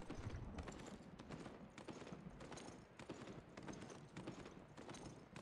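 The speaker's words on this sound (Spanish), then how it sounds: "El burro que suena como un caballo." A donkey's hooves clip-clop like a horse's in the Albion Online video game, a steady brisk rhythm of hoof strikes that continues throughout over faint game ambience.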